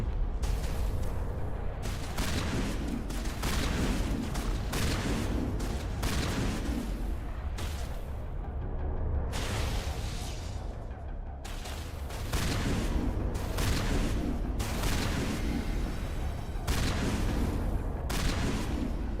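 Repeated shotgun blasts in the Mass Effect video game, loud booming shots in irregular bursts amid ongoing combat noise, close and dominant throughout.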